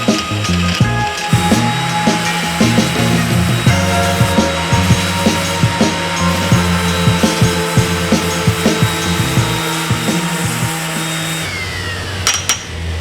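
A power tool sands and shapes the edges of a metal bracket with a continuous loud grinding whir, broken by repeated short rasping bursts as the tool is worked back and forth.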